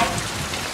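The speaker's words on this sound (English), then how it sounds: "It's raining outside." Rain falling outdoors, heard as a steady, even hiss of drops on surfaces, fairly loud and unbroken, with no talk.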